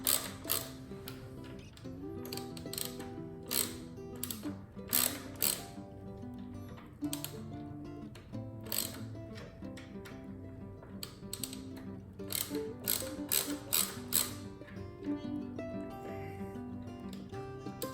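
A ratchet clicks in repeated bursts while driving bolts into a NordicTrack Commercial 2450 treadmill during walk belt replacement, close and mechanical with short pauses between runs.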